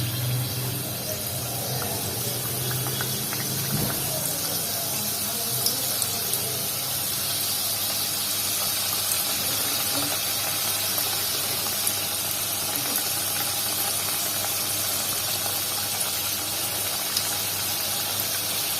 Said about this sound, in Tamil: நான் இப்போ வந்து ஒன்று ஒன்றா இறக்கி இதை ஃப்ரை பண்ணி எடுத்துக்க போகிறேன்